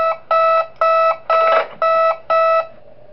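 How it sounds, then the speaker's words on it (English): In the Five Nights at Wario's video game, Yoshi's approach cue sounds as six loud, evenly spaced electronic alarm-like beeps, each a short sustained tone. "I know that sound cue because I just heard Yoshi coming up"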